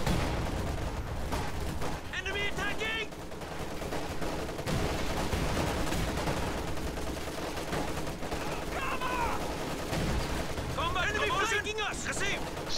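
Grenade blasts and rattling gunfire from a Company of Heroes battle crackle and thump in bursts throughout, mixed under a fast-talking commentator's voice.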